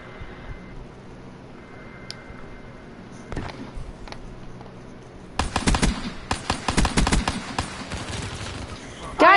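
Gunfire in a shooter video game, with scattered single shots early, then a dense run of rapid automatic bursts, loud and close over a steady background bed of game sound.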